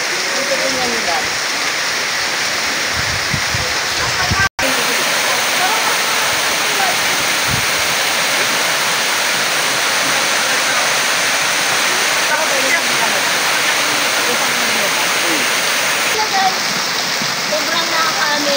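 Water pouring down Balite Falls at a resort in Amadeo, Cavite, a loud, unbroken rushing roar with splashing that stays steady and close from start to finish.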